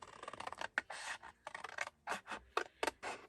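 Scissors snip through a 12x12 sheet of paper in a run of quick, close cuts, short crisp bursts with brief pauses between strokes, heard alone with no talking.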